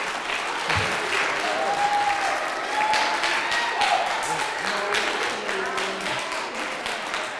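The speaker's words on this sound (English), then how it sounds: "please just give both teams a round of applause one more time" A school student debate audience applauds both teams, a dense, steady wash of many hands clapping that carries on for several seconds at fairly close range, with a little voice activity mixed in.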